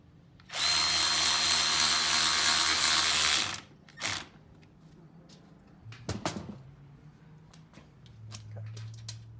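A ratchet with a socket is driven in a loud, fast whirring burst of about three seconds, followed by scattered clicks, taps and handling noises of tool assembly nearby.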